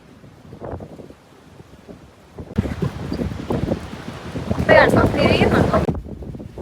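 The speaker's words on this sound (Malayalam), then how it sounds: "ഭയങ്കര കാറ്റാണ്" Strong gusts buffet the microphone outdoors in the UK, rising into a loud, roaring rumble midway before easing off, with people talking in between the blasts.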